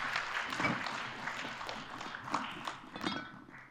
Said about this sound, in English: Captain Anne, big round of applause.